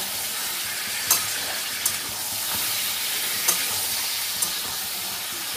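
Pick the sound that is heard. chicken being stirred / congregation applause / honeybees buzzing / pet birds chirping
chicken being stirred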